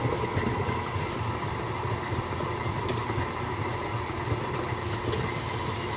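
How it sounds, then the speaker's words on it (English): A KitchenAid stand mixer with a paddle attachment runs at medium-high speed, giving a steady, continuous motor whir throughout, moderately quiet and with no talking. "So I'm actually using a KitchenAid mixer today, or a stand mixer, with our paddle attachment"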